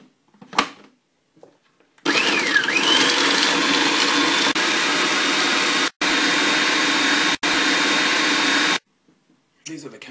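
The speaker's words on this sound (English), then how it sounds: "I shall now blend or blitz the cashew nuts so they're turned into very" A kitchen blender blitzes cashew nuts into fine granules, roaring loud and steady for several seconds with two brief cut-outs, then stopping abruptly.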